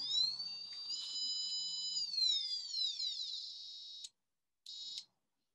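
An electronic buzzer gives a steady high whine whose pitch glides down and rises again as a potentiometer is turned, then cuts off and returns for one short final burst, loud and alone.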